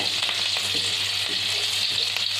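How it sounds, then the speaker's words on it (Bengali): Chopped green chilies fry lightly in a pan over low heat, giving a steady, even sizzle that runs unbroken throughout, close and alone with no talking. "সেই কাঁচা লঙ্কা কুচিটা এর মধ্যে দিয়ে দেবো। হালকাভাবে ভেজে নেব আমি, গ্যাসটা কম করে।"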